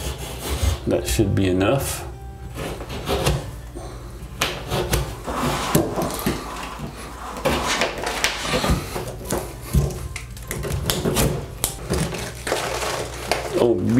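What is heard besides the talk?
cutting out drywall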